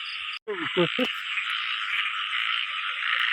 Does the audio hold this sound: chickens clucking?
no